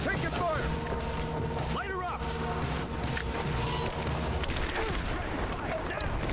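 Rapid shotgun fire from enemies rushing in Rise of the Tomb Raider, dense repeated blasts layered over continuous game music and effects, with a person talking throughout.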